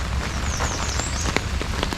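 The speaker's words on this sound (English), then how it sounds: "It is supposed to continuously rain and be very heavy at times" Heavy rain pours steadily during a thru-hike on the Bruce Trail, a dense, loud hiss of drops pattering on surfaces close by, with no voices.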